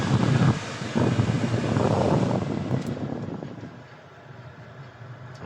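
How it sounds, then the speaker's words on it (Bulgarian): Air conditioning in a Kia Picanto 1.0 blows a strong steady rush of air from the cabin vents, loud at first, then dropping to a softer hiss before surging again at the end. "Климатика работи идеално."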